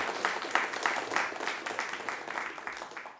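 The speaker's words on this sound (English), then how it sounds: "Another round of applause." Audience applause after a conference talk, steady dense clapping from a crowd that stays fairly loud and gradually thins toward the end.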